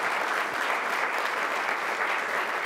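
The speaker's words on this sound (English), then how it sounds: "So please give them a round of applause." Steady, full audience applause at an Asian and Pacific Islander American Heritage Month celebration, a dense wash of many hands clapping at constant loudness throughout.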